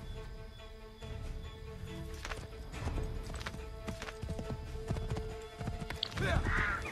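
Horse hooves clip-clop steadily in Assassin's Creed III during a mounted escape from an ambush, with a whinny near the end and a voice talking over the galloping.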